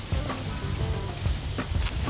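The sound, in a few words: food sizzling over wood fire with garlic rub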